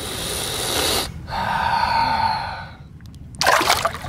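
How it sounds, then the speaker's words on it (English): A short breathy sniff outdoors in the Florida Everglades during a fishing trip, heard as a couple of close, noisy inhalation bursts over steady outdoor background hiss, with no talking. "Little Everglades sniff"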